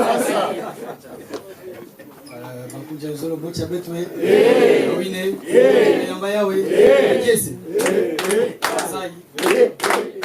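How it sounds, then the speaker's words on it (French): A church congregation at an Easter service claps in scattered, uneven bursts, mixed with chatter, chuckles and a voice talking over it, loudness rising and falling rather than a steady ovation. "Applaudissons."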